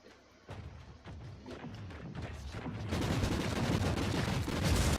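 Gunfire in the video game Warhammer 40,000: Inquisitor - Martyr, a steady rattle of shots against enemies that grows louder and denser toward the end.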